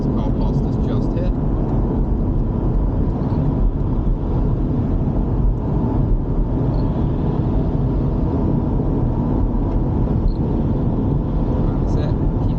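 Porsche Cayman engine pulling hard under sustained power uphill at Thruxton circuit, a steady loud broadband roar with constant intensity throughout, with a voice talking over it.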